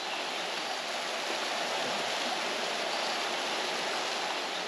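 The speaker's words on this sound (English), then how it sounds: "this beautiful small waterfall that drops out of a cave." A small waterfall spilling out of a cave on a hike in the Azores, a steady close rush of falling water that holds an even level throughout with no voices.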